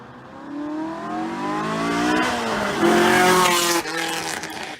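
A modified flat-plane Corvette passes by fast, its engine note climbing sharply through the pass with a shrill high-rev wail before fading slightly at the end.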